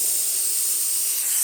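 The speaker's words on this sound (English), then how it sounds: "Quickly test the steam on this one." Lelit Bianca espresso machine steam wand, freshly serviced, releasing a continuous loud, even hiss of steam that stays steady for the whole moment, close and alone.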